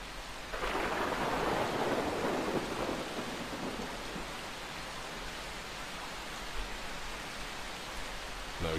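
Stormy weather in the Far Cry 3 map editor, a steady broadband rush of heavy rain with a rumbling thunder swell near the start, then continuous downpour noise throughout with no talking.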